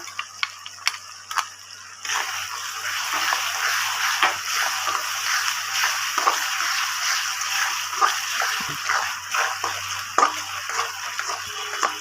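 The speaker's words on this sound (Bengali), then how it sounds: "আমি একটু ভালো করে পেঁয়াজটাকে একটু ভালো করে কষিয়ে নিচ্ছি" Onions sautéing down in a pan for chicken maharani: a few sharp ticks, then a steady sizzling hiss from about two seconds on, dotted with clicks and scrapes from stirring, with no voices.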